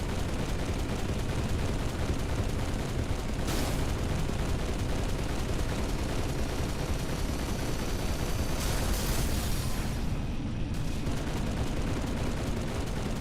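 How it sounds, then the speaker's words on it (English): A vehicle-mounted gun fires in Halo firefight mode as a steady, dense roar of continuous shooting that holds for about thirteen seconds with little variation, loud and unbroken. "Go ahead and fire off that gun."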